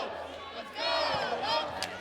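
Large arena crowd at a women's college volleyball match, a loud sustained roar of cheering and shouting that swells after the first second and stays dense, with voices mixed in.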